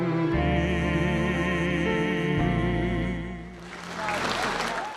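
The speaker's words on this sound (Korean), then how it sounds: "노래가 끝나니 열화 같은 박수 소리가 쏟아집니다" Applause from a concert audience breaks out as a sustained orchestral note from a performance of a song fades, the clapping swelling in over the last second and a half.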